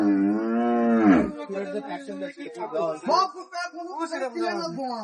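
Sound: cattle mooing at a cattle market

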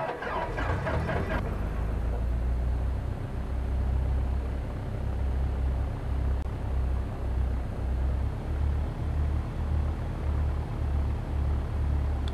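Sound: Cessna 172 engine throttling up, X-Plane 11 video game

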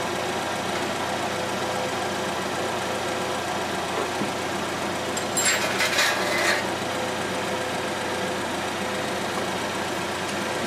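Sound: 2014 Chevrolet Equinox engine running

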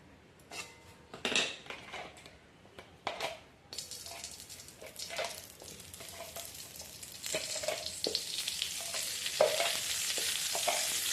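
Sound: frying and stirring in a pan

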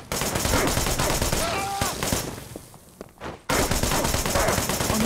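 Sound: gunfire in the video game Wanted: Dead

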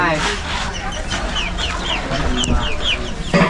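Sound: chicken clucking

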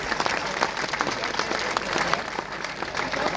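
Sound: audience applause

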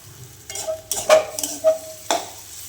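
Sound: stirring radish greens and chicken masala in a pan

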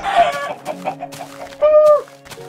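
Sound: chicken clucking in Minecraft video game

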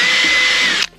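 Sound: power drill drilling through Kia Stinger trunk lid

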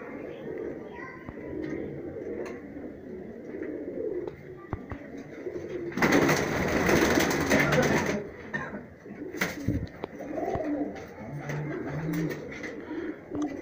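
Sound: high-flyer pigeons

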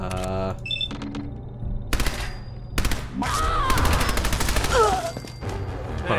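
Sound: machine gun firing in Fallout 4 video game

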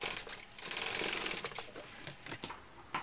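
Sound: sewing machine basting stitch on backpack seam

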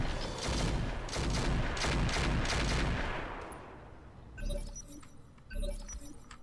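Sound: mech weapons firing in Roguetech video game

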